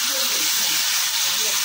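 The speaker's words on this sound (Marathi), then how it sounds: "भुर्जीला तेल जरा जास्त लागतं, 3 पळी टाकते। आता यामध्ये चिरलेला कांदा," Chopped onion hitting a generous amount of hot oil for egg bhurji, giving a steady, loud sizzling hiss that fills the whole moment without pause.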